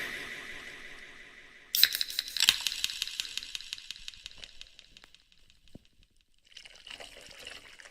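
Soda tonic is poured into a glass, a bright splash and trickle that fades into a soft fizz, then a second brief fizzing burst near the end.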